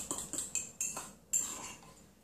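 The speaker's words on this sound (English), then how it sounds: "Whisk that" A metal utensil whisks an egg mixture in a bowl, giving a quiet series of quick clinking taps against the sides, about six separate strokes spaced unevenly.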